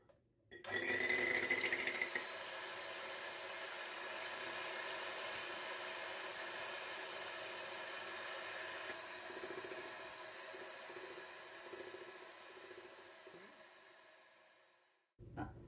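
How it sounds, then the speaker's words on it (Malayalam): An electric mixer whirs steadily as it beats cream to soft peaks for an eggless chocolate mousse, a loud continuous motor hum that starts abruptly, runs for about fourteen seconds and winds down. "ഇനി ഇത് നന്നായിട്ട് സോഫ്റ്റ് പീക്ക് ആവുന്നത് വരെ ബീറ്റ് ചെയ്തെടുക്കണം."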